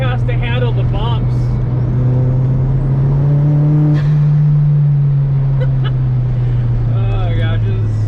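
Volkswagen Corrado rolling over a bumpy road, a steady loud engine drone with rumbling undertone and occasional knocks, while people talk over it throughout.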